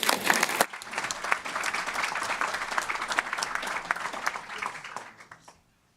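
An audience at a regular school board meeting gives a round of applause, a steady wash of clapping from a room of people that holds level for several seconds and then fades away into quiet.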